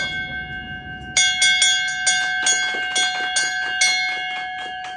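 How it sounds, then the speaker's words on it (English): A bell rung repeatedly to mark finishing a course of radiation treatment for a pituitary adenoma, about ten bright metallic strikes in quick uneven rhythm with long ringing tones sustained underneath, loud and close after a quiet start. "I got to ring the bell today"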